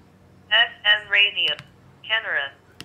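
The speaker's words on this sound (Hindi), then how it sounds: "किसी भी फोल्डर पे ले जाने पर वो ऑटोमेटिक आवाज़ करता है" An Itel phone's automatic voice speaking as it locks, a short run of clipped synthetic spoken syllables in two bursts, with a faint click at the end.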